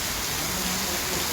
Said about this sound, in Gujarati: અત્યારે ભાઈઓ વરસાદનો ખૂબ સરસ એવો આનંદ માણી રહ્યા છે.